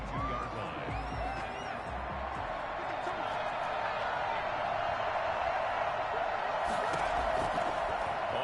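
Stadium crowd noise from the Madden football video game, a broad continuous roar of a packed crowd before a Saints–Falcons matchup, steady throughout with a commentator talking over it.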